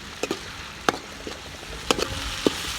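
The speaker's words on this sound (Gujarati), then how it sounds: "સારી રીતે ટામેટાની પ્યુરીને આપણે તેલમાં સાતળીશું." Tomato puree sautéing in hot oil, a soft steady sizzle broken by occasional sharp clicks and scrapes of a spoon stirring the pan.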